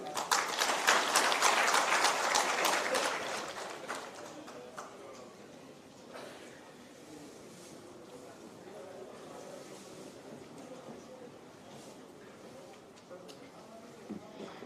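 Audience applause at a felicitation ceremony, a loud burst of clapping that dies away within a few seconds, followed by quieter room murmur and a voice speaking over a PA.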